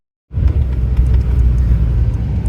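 Silence breaks into a loud, close rumble of a car rolling over speed bumps on a hill, with a heavy low-frequency drone and occasional clunks.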